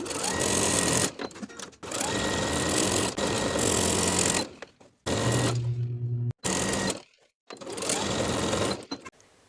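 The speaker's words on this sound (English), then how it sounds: "Sew closed the gap in your stitches and finish the raw edges all the way around." Sewing machine stitching closed the elastic waistband casing on pull-on barrel leg pants, close and loud in several rapid bursts with short stops, one pause carrying a low steady hum.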